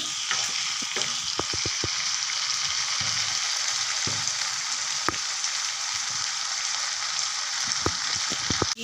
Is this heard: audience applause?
no